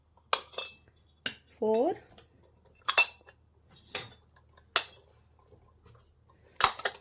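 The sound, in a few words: miniature kitchen utensils and lids clinking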